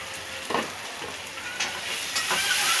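Chilli and cumin powder frying in a pan, a steady close sizzle with a few brief louder hisses, no voices.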